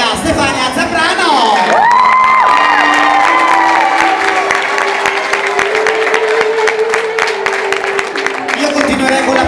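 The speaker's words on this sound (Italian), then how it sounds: "Un applauso grande a Stefania Zambrano!" Loud applause and cheering from a pageant audience at a Miss Trans Italia contest, with dense clapping, whoops and shouts, and a sustained vocal cheer rising over the crowd, continuing unbroken for nearly ten seconds.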